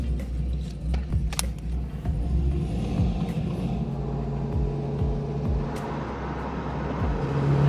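An 800whp Supra climbs a mountain road, its engine a steady deep rumble that swells and drops with gear changes and holds close and loud throughout.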